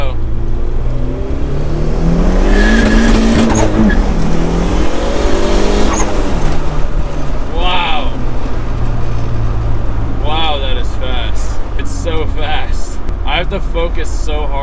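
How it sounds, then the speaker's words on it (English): A turbocharged Honda Civic at full throttle roars loudly from inside the cabin, the engine climbing in pitch through a pull with wastegate hiss and chatter, then shifting and rising again, a voice talking over it. "The higher my redline is, the longer my wastegate can stay open, which is a really cool sound"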